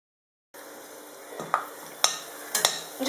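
Whole spices and curry leaves fry in hot oil for a chicken curry, giving a steady, close, even sizzle with a few sharp crackles and pops near the end and no talk.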